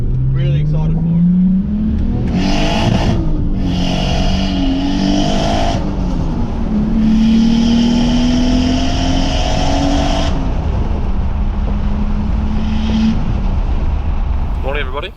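Nissan Skyline with a new turbo and external wastegate, its engine droning loud and close as revs climb and fall through several gear pulls, with speech partly over it.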